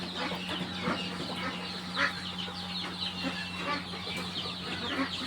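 Poultry on a small farm cluck and chatter continuously, several hens overlapping at close range, with a low steady hum underneath and no talking.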